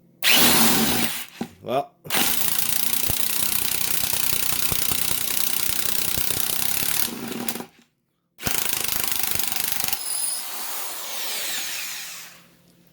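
Impact driver with a DeWalt bit driving a Tapcon screw, loud close bursts of rapid rattling hammering broken by short pauses, ending in a quieter whir; a voice speaks briefly.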